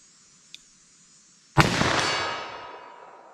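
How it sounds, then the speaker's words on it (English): A single .357 Magnum revolver gunshot with Federal HST ammunition at a range, a sharp, loud, close crack after a quiet lead-in, followed by a long fading echo. "I will shoot slow and line up the sights with these shots though"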